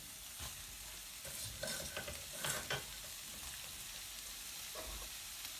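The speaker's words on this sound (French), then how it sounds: "On y ajoute les échalotes et maintenant on y met le poireau." Shallots and leek sweating in butter in a pan, a soft sizzle broken by a few brief stirring scrapes, close and quiet with no talk.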